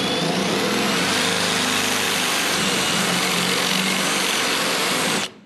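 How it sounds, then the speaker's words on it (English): A power drill bores a 27/64 hole through the steel intermediate steering shaft of a 1980 Camaro, a loud, steady high-pitched whir held close for about five seconds before it cuts off abruptly. "We're drilling a 27/64 hole for the 12 millimeter diameter bolt that we're about to put in."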